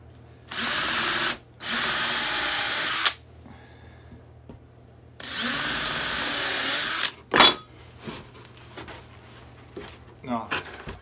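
A power drill bores holes in wooden toy storage cubbies in two sustained whirring bursts, each a few seconds long, followed by clattering handling noises, with a low steady hum underneath.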